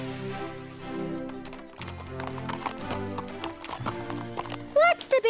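Animated cartoon horses sidestep together with hooves clip-clopping in quick irregular taps. Music and voices play under them, and a brief whinny comes near the end.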